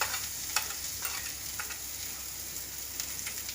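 Spices stirred into lotus stem (kamal kakdi) frying in a pan give a steady close sizzle with soft scraping stirs at irregular moments, and no one speaks.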